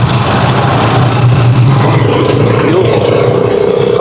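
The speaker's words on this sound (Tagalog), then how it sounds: "I think rinig sa ating microphone yung ating tunog ng makina." A Rusi Chariot 175 motorcycle engine runs loud and close on a city rotonda, a continuous droning rumble with a slight rise in pitch toward the end, mixed with wind and road noise.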